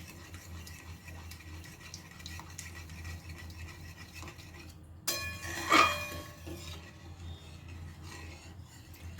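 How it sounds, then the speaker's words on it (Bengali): Dal and spinach being stirred together in a pot, a soft scraping and clinking of a spoon against the metal building to a brief louder rasping stir, then settling under a low steady hum. "নাড়াচাড়া করে মিশিয়ে নেব।"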